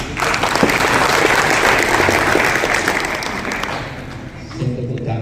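A hall audience at an installation ceremony for provincial education foundation officials in East Java claps in a loud, dense, sustained burst that gradually thins and fades toward the end.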